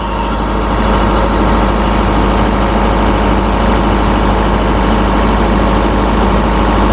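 A new generator set engine idles steadily and loudly up close, a continuous low rumbling drone with even vibration throughout and no other sounds.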